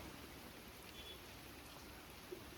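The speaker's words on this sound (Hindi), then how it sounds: "बारिश हो चुकी है बहुत तेज और हमें यहाँ रुकना पड़ा थोड़ी देर के लिए" Heavy rain in the Harshil valley falls as a steady, dense hiss of drops, even and moderately loud throughout, with no voices.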